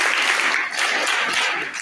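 A school audience at a class eight farewell ceremony applauds in a steady, dense wash of clapping, loud and continuous throughout.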